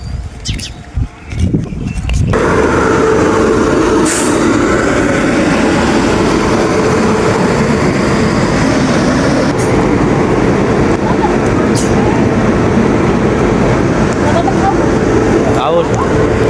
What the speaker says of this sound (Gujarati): લો અમારી ટ્રેન આવી ગઈ છે।